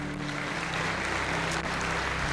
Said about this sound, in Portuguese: Uma salva de palmas para a nossa mídia.